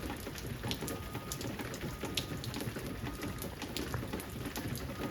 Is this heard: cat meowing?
no